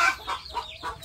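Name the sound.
chickens clucking while laying eggs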